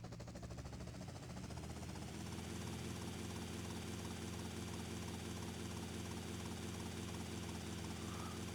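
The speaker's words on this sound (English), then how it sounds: "Now this one can be a little tricky putting the helicopter down" A helicopter in GTA Vice City Definitive Edition hovers and throbs with a steady, loud rotor drone and engine whine, the pitch rising slightly as it spools up early on, then holding constant.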